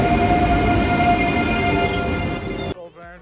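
A train arriving at a station in Schifflange, Luxembourg: a loud, rumbling roll with screeching metallic squeals fills the scene, then suddenly drops away to quieter background.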